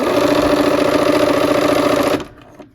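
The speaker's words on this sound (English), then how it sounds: "I have my 1/4 inch foot on, so I know I'm sewing a 1/4 inch away from that line." A sewing machine with a quarter-inch foot runs a steady, fast, close-up whirring stitch while piecing a quilt, then stops abruptly near the end, leaving near silence.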